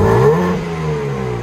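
A BMW M3/M4 with a 3.0L turbo engine and active exhaust revs up loudly through its exhaust, then the note falls and settles into a throaty idle, close by.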